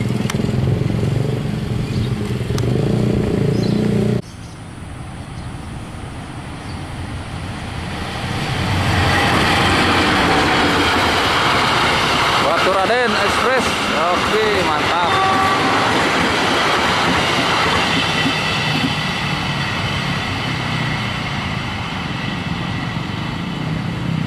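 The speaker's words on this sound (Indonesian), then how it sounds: "Baturaden Express melesat ke timur." Baturaden Express train speeding east through Cimekar station in Indonesia, a loud continuous rush and rumble with rail clatter that swells after a few seconds and holds steady, nearby and close to the listener.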